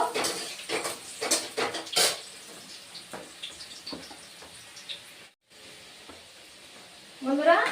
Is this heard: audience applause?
no